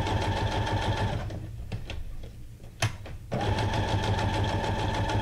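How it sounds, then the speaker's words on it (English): Sewing machine stitching paper tags for a junk journal, a loud rapid rhythmic hum that pauses briefly midway with a sharp click, then resumes at full speed, no talk. "Y'all know I'm stitching these tags into submission."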